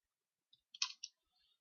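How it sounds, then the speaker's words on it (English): A few faint, sharp clicks from a computer keyboard as notes are typed in during CAD drafting work, spaced irregularly within a second and otherwise quiet. "You could add additional notes by typing them in"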